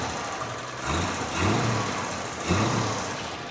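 A 1955 Chevrolet Bel Air's never-rebuilt 235 six-cylinder idles through a single quiet exhaust, a low steady rumble with a couple of gentle swells, close by and without talking.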